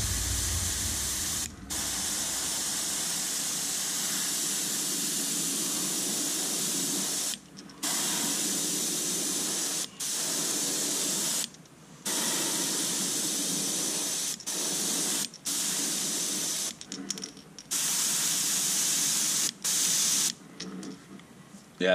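Color-shifting spray paint going on in light coats: a close, steady aerosol hiss in repeated long bursts separated by brief pauses.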